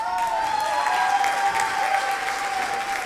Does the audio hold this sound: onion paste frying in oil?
no